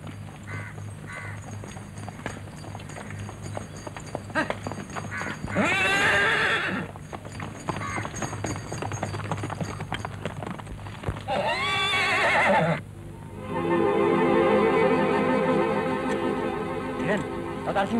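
Horses neigh loudly in an old Hindi film soundtrack, with long shrill whinnies at several points. Hooves clip-clop steadily beneath them, and there is background music and some talk.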